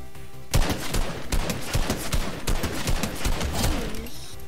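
Sustained automatic assault rifle fire in a video game, a loud, rapid string of shots that starts abruptly after a brief lull and keeps going with steady rhythm almost to the end.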